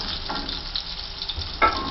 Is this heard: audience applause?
no